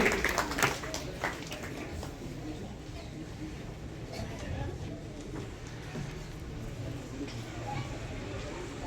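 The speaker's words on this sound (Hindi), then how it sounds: "आप तालियां बजा करके आप जोरदार उनका अभिनंदन करेंगे।" A crowd at a political gathering applauds to honour a district party president, with faint, continuous clapping lasting several seconds under a noisy hall murmur and some voices.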